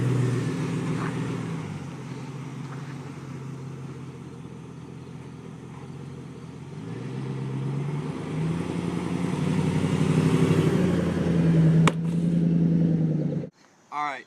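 A pickup truck rolls along at about 10 miles an hour, its engine giving a steady, close, low hum that rises slightly toward the end before stopping abruptly, with a sharp clack near the finish.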